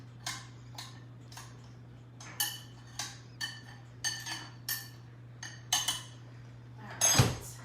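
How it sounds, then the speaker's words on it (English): A spoon stirs store-bought Mexican rice in a bowl, making a run of light, evenly spaced clinks and scrapes against the dish that end in a louder clatter, over a steady low hum. "Give it a stir."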